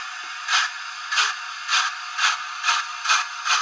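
Heljan LNER Gresley O2 model steam locomotive running with DCC sound, giving a steady rhythm of about seven evenly spaced exhaust chuffs with a soft mechanical hiss between them, close and alone.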